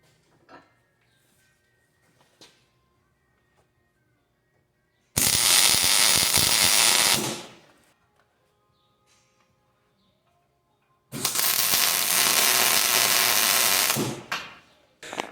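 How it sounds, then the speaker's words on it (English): Tack welding a steel step onto an International Harvester IH 986 tractor: two loud, harsh bursts of arc crackle, each about two seconds long, separated by quiet pauses, close to the microphone with no talking. "I gotta put a tack weld on that spot yet"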